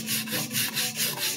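A Takeda knife with a wide, narrow bevel stroked back and forth across a whetstone, giving close, rhythmic abrasive rasps about every quarter second with no speech.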